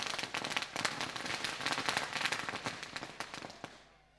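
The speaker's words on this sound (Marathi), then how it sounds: "फटाक्यांची आतिषबाजी असणार का ना सर?" Fireworks and firecrackers set off to celebrate a cricket league final win, a dense, continuous crackle of rapid pops and bangs that fades out at the end.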